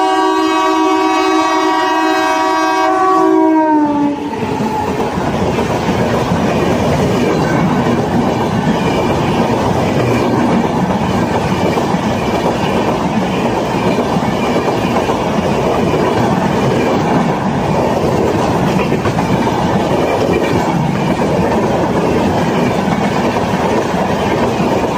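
A loud train horn blares with a sustained tone, then cuts off as the heavy rumble and clatter of passing rail cars continues steadily up close.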